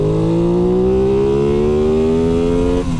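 An Aprilia Tuono 660 motorcycle engine pulls hard in one long rising rev, with steady harmonics climbing for about three seconds. It is loud and close, then breaks off sharply at a shift near the end. No one talks.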